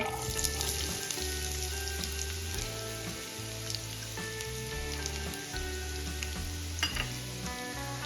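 Chopped onion sizzles in hot oil with bay leaves, cinnamon and cloves for masala keema pav, a constant soft crackling fry with scattered pops and low scraping bumps underneath, fairly quiet and without voices.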